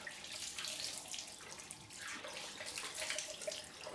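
Tap water runs steadily into a bathroom sink for a warm face rinse after a straight-razor shave, a continuous close splashing hiss with no talk.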